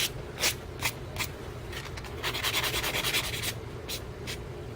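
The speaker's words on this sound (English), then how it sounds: "I personally hate filing, which is why I try to get it done pretty good the first time." A nail file rasps across acrylic nails in short, close strokes: several separate swipes, then a faster run of back-and-forth filing, with no talking.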